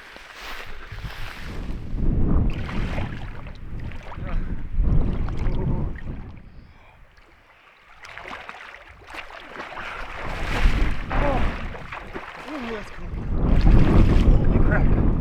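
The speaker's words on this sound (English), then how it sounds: "Pretty chilly with the wind" Wind gusting outdoors on a chilly Newfoundland wild-camping shoreline, rumbling across the microphone in strong waves with a brief lull midway, while people talk at intervals.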